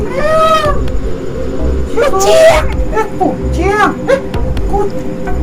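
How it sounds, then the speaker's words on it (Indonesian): A cat meows repeatedly at close range, some calls drawn out and whiny, with a voice chattering between them. "Ini lo kucing ini mah."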